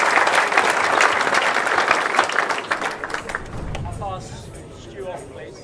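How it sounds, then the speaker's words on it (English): The Scottish crowd at a bowls match in the Scottish International Open breaks into loud cheering and applause that gradually fades, and a commentator begins speaking underneath. "You can hear the Scottish crowd urging it forwards"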